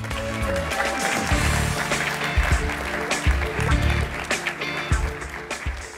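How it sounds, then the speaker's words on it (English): Audience applause at a startup conference, steady clapping from a large crowd with some louder individual claps and voices in the background, fading toward the end. "Give him one more round of applause."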